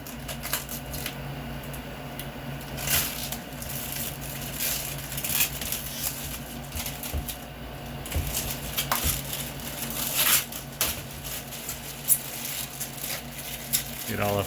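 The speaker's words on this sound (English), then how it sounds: "The best part, getting a new computer, is peeling off the sticker off the glass." A protective plastic film is pulled slowly off the tempered glass side panel of a new gaming PC case, giving soft crinkling and tearing noise under ongoing talk, close to the mic.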